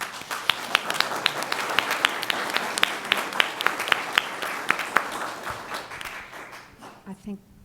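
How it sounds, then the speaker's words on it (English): Audience clapping at a school board meeting, a moderate round of individual distinct claps in a fairly small room, steady for about six seconds before fading out. "let's give them a big round of applause"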